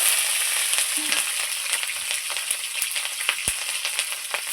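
Slit green chillies hit hot tempering oil already holding bay leaf and panch phoron, producing a constant bright sizzle with popping spatters and a few sharp crackles, close by and without voices.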